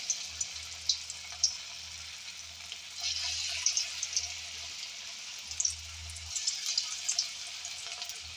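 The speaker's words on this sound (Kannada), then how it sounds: "ಈಗ ಗೋಬಿ ಬಿಡೋದು ತೋರಿಸ್ತೇನೆ ನೋಡ್ರಿ. ಎಣ್ಣೆ ಕಾದತ್ರಿ." Onion Manchurian balls fry in hot oil, a soft continuous sizzle with light crackles and occasional pops and clinks, fairly quiet and close, with no talking.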